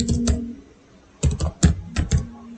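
Code being typed on a computer keyboard, with short bursts of close key clicks in a loose rhythm, separated by a pause.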